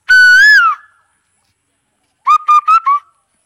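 A man whistles in imitation of a koel bird: one long, rising-and-falling whistle, a pause, then four short, quick, rhythmic whistled notes. The whistling is loud and close, with no other sound around it.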